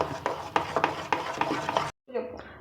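Ground batter is being stirred with salt, a rhythmic series of close scraping and slapping strokes about twice a second, then a brief pause and a softer stir.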